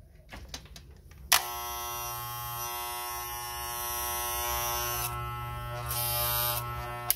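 A Magic Clip corded hair clipper switches on after some handling clicks and then runs with a loud, steady electric buzz that has a strong harmonic whine, close by and holding until the end.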